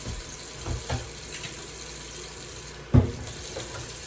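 A kitchen sink faucet runs while hands are washed, giving a steady close water flow broken by a few louder splashes and knocks.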